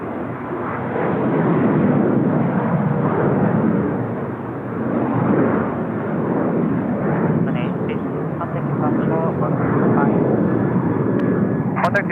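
A passenger jet, a Boeing 777, roars steadily at Seoul Incheon Airport, its loud engine noise swelling and easing over several seconds, with faint voices underneath.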